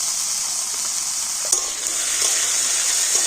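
Chopped potato, carrot and beans stirred in hot oil in a pan, a steady close sizzle with scraping stir strokes throughout and a brief clatter midway.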